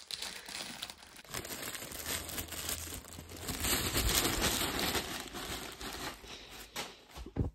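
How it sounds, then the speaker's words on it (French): A small parcel from Sheriff is opened by hand, its plastic packaging crinkling and rustling continuously up close, with a few sharper tearing rips. The sound is quiet overall. "on va s'ouvrir ce petit colis"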